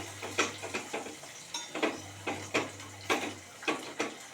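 Tempering (vaghar) for khandvi sizzling in a pan, with a rhythmic series of soft scraping or tapping strokes about twice a second over a low steady hum, close but quiet, no talking.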